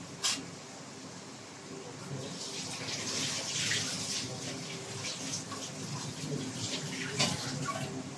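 Used plates are washed under a running kitchen tap, with a steady splash of water and a few clinks of dishes, moderately close, the water swelling and easing as the plates are rinsed.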